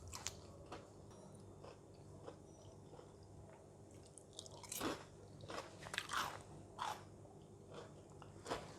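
Crispy battered fried bitter gourd being bitten and chewed, close and fairly quiet, with a series of sharp crunches that cluster and grow louder toward the end over a low background hum.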